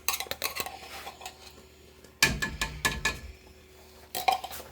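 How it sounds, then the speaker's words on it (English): Spoon and whisk clinking and scraping against pots and dishes while making a beefy macaroni and cheese casserole, in clustered bursts of sharp metallic clatter with pauses between. "Let me get another spoon here instead of that whisk."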